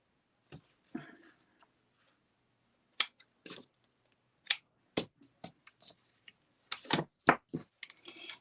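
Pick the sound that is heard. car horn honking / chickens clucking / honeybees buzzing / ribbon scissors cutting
ribbon scissors cutting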